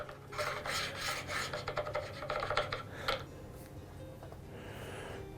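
Hand plane shaving wood for a magnetic kitchen holder, a run of close, rasping strokes in quick succession, then a pause before one last short pass.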